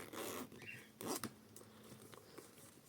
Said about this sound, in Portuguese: E olha só como fica aqui com o zíper.